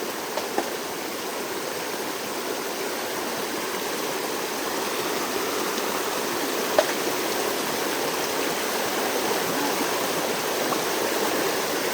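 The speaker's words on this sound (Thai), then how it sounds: "เพราะว่าน้ำมันไหลแรงนะครับ" Strongly flowing stream water: a constant broad rushing and splashing close by, steady throughout, with a couple of small knocks.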